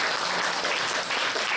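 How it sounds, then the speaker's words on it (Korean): A congregation at a Korean Sunday youth worship service applauds after a prayer, a brief, dense burst of steady clapping that fills the room at even loudness. "다시 한번 박수 해주세요"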